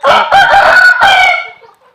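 A white Thai chicken rooster in Doem Bang Nang Buat, Suphan Buri, crows once, loud and close, in a bright multi-part call that fades at the end.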